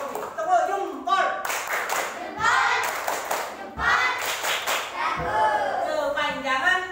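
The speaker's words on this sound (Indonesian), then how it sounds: "kita tepuk jempol dulu kepada Robi" Primary schoolchildren in a classroom do a patterned thumb clap for a classmate, sharp rhythmic bursts of clapping in short groups with pauses, mixed with children's voices chanting along.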